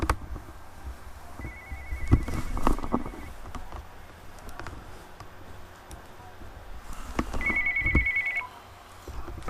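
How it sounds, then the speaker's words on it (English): A telephone rings with an incoming call: two short bursts of patterned electronic ringing, separated by several seconds of low room noise and faint handling sounds. "Got a phone call."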